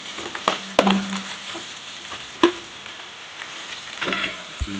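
Chopped ginger and garlic sauté in a pan for a traditional Kuttanad duck curry, giving a soft, steady sizzle broken by a few sharp spatula knocks against the pan.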